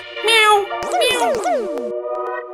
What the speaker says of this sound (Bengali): বিড়াল এলো নাকি?